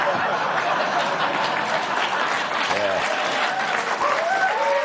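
A studio audience at a late-night comedy talk show applauds in a sustained, even wash of clapping, with scattered chuckles and a few voices mixed in.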